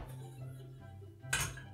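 A cooking pot handled in a home kitchen, with a brief clatter and clink of metal cookware at close range, set against a low background hum and otherwise quiet surroundings.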